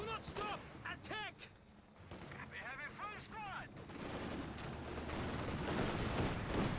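Machine-gun bursts from a Company of Heroes 2 match suppress infantry, a dense sustained rattle of gunfire building through the second half over a busy battlefield din, with talk over the early part.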